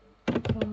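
Enter key struck on a computer keyboard while coding, a few quick close taps in a short burst, loud and alone with no talk.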